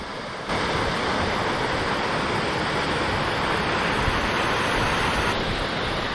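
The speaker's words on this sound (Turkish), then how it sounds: "Koca derenin şelaleleri bitmek bilmiyor." Waterfalls on a large mountain stream on Uludağ roar as a close, continuous rush of falling water, loud and even from start to finish.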